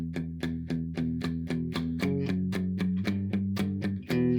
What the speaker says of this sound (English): Palm muting sounds like this.